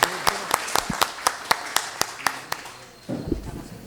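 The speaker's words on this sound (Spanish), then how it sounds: "así que un aplauso" An audience at a health economics and management conference claps, the separate claps spaced out and steady at first before a denser burst of applause near the end, with no voices.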